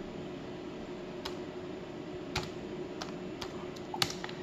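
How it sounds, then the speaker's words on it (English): Typing on the keyboard of a Panasonic Toughbook CF-W4 laptop, a handful of sharp, irregular key clicks close by over a steady fan-like hiss. "For a tiny little machine, the keyboard actually is very usable."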